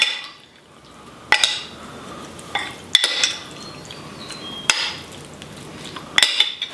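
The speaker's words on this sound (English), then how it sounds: "So I'm going to give this another little mix." A spoon stirs savory cilantro lime oatmeal with pepper, sriracha and onions in a pot. Sharp metallic clinks and taps against the pot land roughly every second and a half over soft scraping and faint wet stirring.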